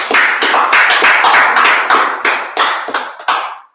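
A small audience claps together in an evening class, a burst of quick, close handclaps that thins out and tapers to a stop after a few seconds.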